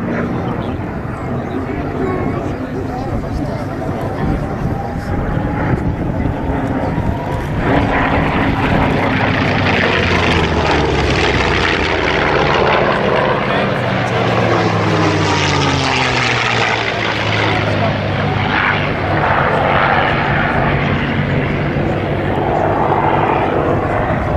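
A Focke-Wulf Fw 190A-8 propeller fighter plane engine drones loudly and continuously at an air show in La Ferté-Alais, its pitch shifting as it passes, with a voice talking over it.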